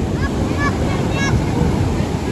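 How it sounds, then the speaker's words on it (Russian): Sea waves wash onto the shore of Koh Samui, Thailand, in a loud, continuous surf roar with heavy wind buffeting the microphone. "вот волна принесла на берег,"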